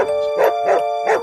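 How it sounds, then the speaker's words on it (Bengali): A dog barks three times in the distance outside an old morgue, a quick uneven sequence, moderately loud, over a steady high-pitched hum. "দূরে কুকুর ডাকছে,"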